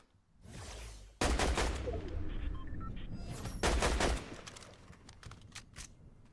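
Gunfire in a Fortnite Zero Build match, Chapter 7 Season 1: two dense bursts of rapid shots, the first around a second long and the second shorter, loud over a low ambient rumble, then fading into scattered faint game sounds.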